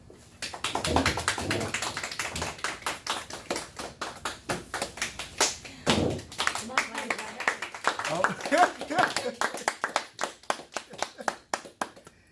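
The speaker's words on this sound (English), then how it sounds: "Thank you for that wonderful applause." Applause from a Toastmasters club meeting audience, a dense stretch of many hands clapping that swells and thins over about twelve seconds, fairly close, with some talk mixed in.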